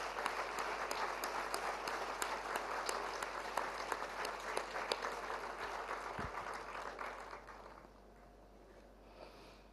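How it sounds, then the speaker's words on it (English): A steady round of audience applause at an international autism conference runs for about eight seconds, fairly faint and even, with a few sharper individual claps standing out before it tapers off. "May I request a big round of applause for all the speakers and delegates"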